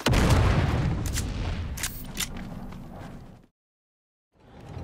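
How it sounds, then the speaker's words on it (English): Grenade blast and gunfire in the Dune Awakening survival MMO, a loud booming burst with sharp cracks over the first three seconds, then a sudden silence before the noise returns. "our friend coming from above and throwing out one more grenade"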